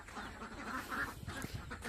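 Ducks quack faintly in a village yard in Assam where chickens are also kept, a few short nasal calls over low rustling outdoor background.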